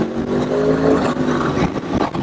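A Benelli 502C parallel-twin cruiser motorcycle is ridden with a loud, steady engine drone under rushing wind noise, close and continuous without pauses.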